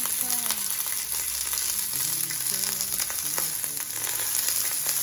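Green beans frying and sizzling in hot oil in a pan, a steady loud crackling hiss throughout with occasional stirring clatter, no talking.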